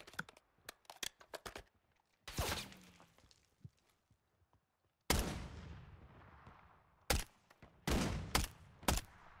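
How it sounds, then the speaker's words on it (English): Gunfire in Call of Duty Warzone 3 during a duos match: scattered sharp shots and short bursts, with a few loud close reports followed by decaying echoes, separated by quieter gaps. "Where am I being shot from now?"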